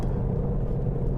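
A 2020 Toyota Corolla ZR hatch with manual clutch drives along, its engine and road noise forming a steady low interior rumble with no talk.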